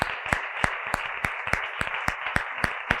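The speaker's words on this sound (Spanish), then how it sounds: "Es para que os den un aplauso después de" Lecture audience at a reading-club conference gives a steady round of applause, dense clapping with sharp individual claps standing out at a regular beat, close and fairly loud, no talk over it.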